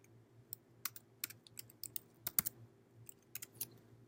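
Fingers tap out a short burst of typing on a computer keyboard, quiet, close clicks in an uneven rhythm with a few brief pauses.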